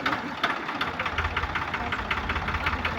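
A tractor engine runs steadily during a driving lesson, its continuous low rumble carrying a knocking, vibrating texture close by throughout, with no talking.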